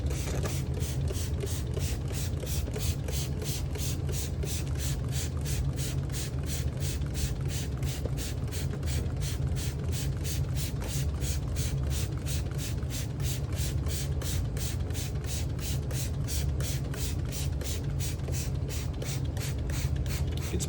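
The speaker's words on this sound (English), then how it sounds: "do another really big spray of the whole place." A trigger spray bottle mists a humid enclosure of emersed Amazon sword plants with a long, evenly paced series of short sharp hisses, close by, over a constant low hum.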